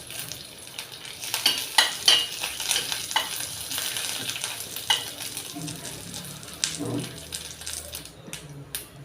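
A tempering of chillies fries in hot oil in a pan, a close crackling sizzle with sharp spatters and metallic spoon clinks as it is stirred, lively and continuous.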